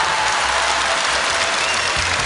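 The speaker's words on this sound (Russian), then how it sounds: "ваши аплодисменты" Loud, dense applause from a television studio audience greeting a singer, a continuous wall of clapping at full strength from start to finish with no pauses.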